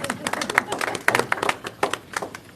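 Audience applause at a state board of education meeting, a short burst of many overlapping hand claps with crowd noise and voices talking underneath.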